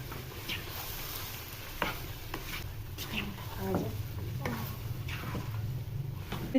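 Chicken changezi being stirred and sautéed with a spoon in a pan, a steady soft sizzle with scattered scraping strokes and light clinks running through the whole stretch, at close range.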